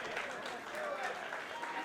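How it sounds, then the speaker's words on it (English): Audience applause at a women's wrestling event, a steady wash of clapping from a crowd throughout, with a voice speaking over it. "See, the people know it. They're clapping."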